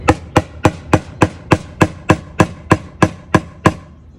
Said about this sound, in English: now, my hole is pretty much there, hammering in, and it should go through soon